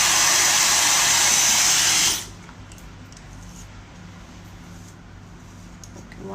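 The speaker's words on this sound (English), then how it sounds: "I actually am not concentrating too much on curling my hair, just to dry the product and smoothen the ends out" A hair dryer blowing on hair, a loud steady rushing whir for about two seconds that then switches off, leaving quiet room background.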